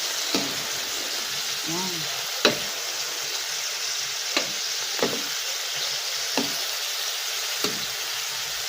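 Shrimp and bamboo shoots sizzle steadily in a hot pan, a constant frying hiss broken by several sharp clinks of a utensil stirring; a voice speaks briefly.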